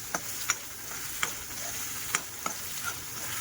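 Mutton masala frying in oil in a pan, stirred repeatedly with a spoon, giving a steady close sizzle broken by several sharp scraping clicks of the stirring.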